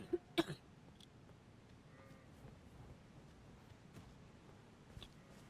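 A single person coughs close by, in a short sharp burst of two or three hacks at the start, and then the room stays quiet apart from faint background noise.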